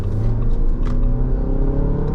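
Jeep Commander with a 2.0 turbo engine pulling hard, a steady loud drone and low rumble of the motor heard from inside the cabin, holding constant for a couple of seconds with no talk.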